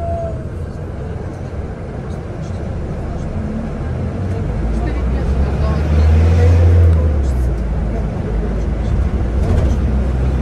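A bus travelling from Mahmutlar to Alanya in Turkey, with a continuous low engine rumble and road noise from inside the vehicle that swells as it speeds up, while people talk.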